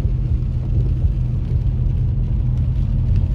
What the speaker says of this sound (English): We're gonna take a little drive on Big Bear Boulevard.